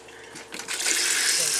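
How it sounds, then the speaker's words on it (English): Water flowing from the shower tap in a camper with low water pressure: a soft rushing that swells into a strong steady spray after about half a second. "Turning that on, I've got tons of pressure there, it looks like. That's pretty good water flow."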